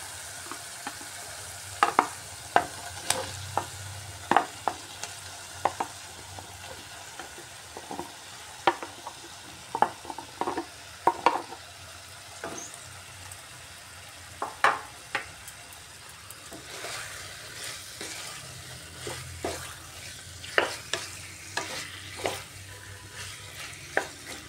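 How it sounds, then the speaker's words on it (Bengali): Boiled potatoes fry in a pan with a steady soft sizzle, as a spoon scrapes and stirs in irregular sharp knocks across the pan throughout. "এই পর্যায়ে দিয়ে দিচ্ছি সিদ্ধ করে রাখা আলু।"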